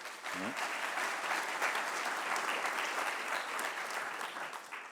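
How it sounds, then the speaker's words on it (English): An audience at a Georgetown University deans panel gives a sustained round of applause, a steady crackling wash of many hands that holds evenly throughout. "let's give them one more round of applause"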